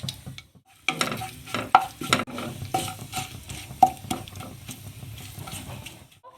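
Whole cumin seeds sputter and crackle in hot oil in a kadai, with a steady sizzle and busy scraping and stirring clatter running throughout, close and fairly loud, with no talking.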